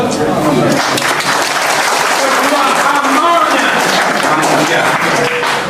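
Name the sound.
audience applause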